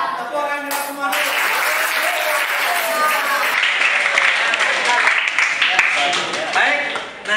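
Classroom applause during an active-learning lesson, a spread of clapping from students heard alongside voices and tonal sounds, steady throughout with a brief dip near the start.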